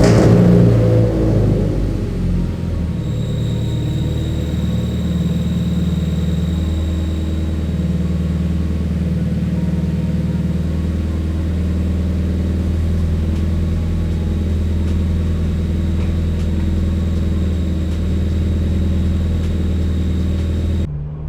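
A Toyota FRS engine starts at the outset with a brief rev, then settles into a steady, loud low rumble of idling that continues unbroken for the rest of the time, with no talking.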